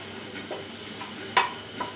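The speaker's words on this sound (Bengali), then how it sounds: "এখন আমি এগুলোকে হালকা করে একটু ভেজে নিব।" Cardamom pods lightly frying in a pan, a soft low sizzle with a few faint stirring scrapes and one brief clink, quiet and close, no talking.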